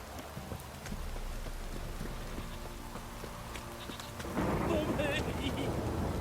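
Steady heavy rain in The Witcher 3 video game hisses throughout, growing louder and denser near the end, with faint rumbles beneath.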